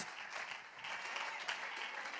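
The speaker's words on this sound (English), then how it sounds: "I wish somebody in here would clap their hand." Church congregation clapping during a sermon, a soft, even wash of many hands heard from a distance, continuous and fairly faint with no voices on top.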